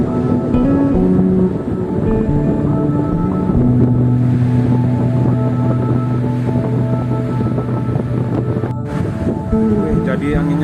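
Strong wind roars steadily and loudly across the 2,074 m summit of Mount Sanghyang in Bali, a dense, continuous rush with a faint voice underneath.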